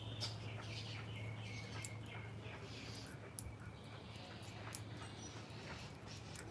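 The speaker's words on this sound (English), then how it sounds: "I love to sit out here when I can and listen to the birds." Birds chirp and sing in a quiet backyard in Naples, Florida, with scattered high tweets and calls at moderate distance over a soft steady hum of background noise.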